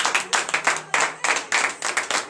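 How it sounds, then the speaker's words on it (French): Church congregation clapping in rhythm during morning prayer in Comè, Benin, a series of sharp, evenly spaced bursts of hand claps, fairly close and loud, pulsing steadily with no talking over it. "Donnez de vive acclamation à l'Éternel."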